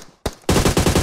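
Gunfire in the PUBG Mobile video game: a single sharp shot followed by a fast, loud burst of automatic fire, close and unbroken to the end.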